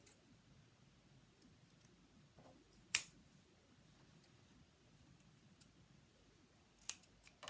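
Scissors trimming strands of a cut t-shirt, a few faint, sharp snips spaced seconds apart in a quiet room.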